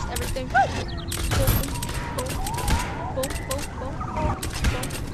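Twin pistols fire in a target-practice video game set in a dinosaur kingdom. Sharp bursts of shots crackle loudly in clusters, mixed with chirpy game sound effects and voices.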